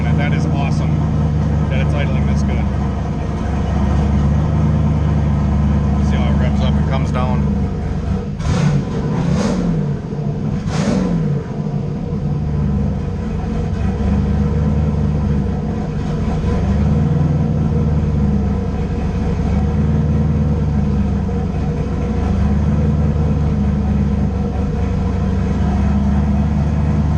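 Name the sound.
tuned race car engine idling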